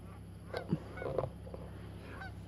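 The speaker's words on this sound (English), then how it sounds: "That's the infamous sound of fall right there, the Canadian geese coming back down." Canada geese honking as they fly over in fall, several short nasal honks, fairly distant and moderately faint, over a low steady background.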